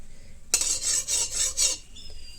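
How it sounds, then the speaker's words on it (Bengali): Sugar sizzles and melts in smoking-hot oil in a pan while a utensil stirs and scrapes against the metal in several quick, bright strokes, with a soft tail after. "দেখছেন ধোঁয়া উঠে গেছে, দিয়ে দেবো চিনি। চিনিটা একটু তেলের মধ্যে যেন লাল লাল হয়। এই দেখুন গলতে শুরু হয়ে গেছে।"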